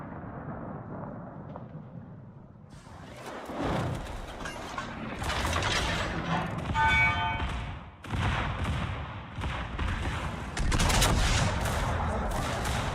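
Warship main battery salvos booming in the World of Warships naval combat game, repeated heavy blasts and rumbling bursts layered over continuous battle noise, loud and dense for several seconds.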